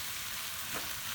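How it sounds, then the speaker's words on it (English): Rice filling for Armenian vegetarian dolma sautés in a pan while being stirred, a steady soft sizzle running throughout with faint scraping of the spoon, no talking. "it's sauteing for 1 minute, 2 minutes, while I'm mixing, because the rice, it can be stuck to the pan"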